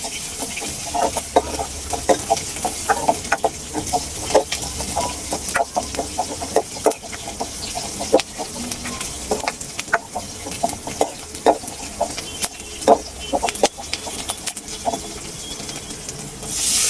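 Onions and masala, with garlic added, sauté in a pan with a steady crackling sizzle and repeated scraping stirs throughout, close and fairly loud.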